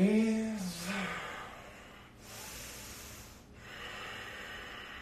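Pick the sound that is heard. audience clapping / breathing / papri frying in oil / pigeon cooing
breathing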